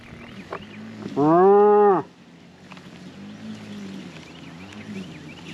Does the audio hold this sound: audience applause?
no